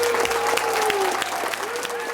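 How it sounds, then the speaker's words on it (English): An audience at a retirement send-off applauds in a dense, continuous wash of clapping, with a held tone running underneath. "big round of applause"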